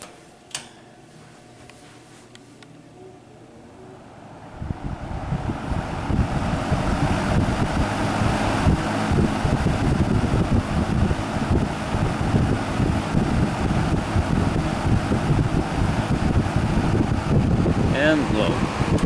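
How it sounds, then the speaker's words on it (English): A Dominion metal box fan switched on high: after a quiet start, a loud, steady whooshing roar of moving air builds in and runs continuously, close to the microphone. "let's start off on high."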